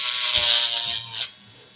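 A Ryobi rotary craft tool grinds 3D printed plastic, a steady high-pitched whirring buzz for under two seconds that drops off near the end.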